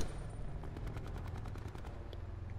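ICR rifle gunfire in an online shooter video game: a rapid, steady burst of automatic shots, each crack sharp and evenly spaced, running over a constant low rumble of background noise with no talking.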